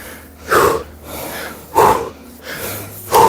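Heavy, labored breathing after an ab and full-body workout circuit: three loud, sharp gasping breaths about a second apart, each followed by a softer exhale, close to the listener with no talking.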